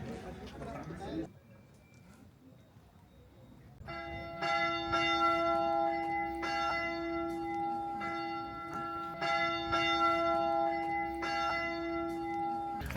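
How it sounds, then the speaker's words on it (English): Church bells ring out on the island in Lake Bled, Slovenia, a sustained series of bright, overlapping tolling strokes that begins after a quieter stretch of ambient noise and continues steadily, fairly close, with faint voices in the background. "There's the bells again. Every like 10 or 20 seconds."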